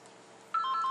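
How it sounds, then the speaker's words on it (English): A phone notification goes off inside a woman's purse, a short bright electronic tone pattern starting midway and continuing steadily, muffled slightly by the bag. "My phone just went off inside it."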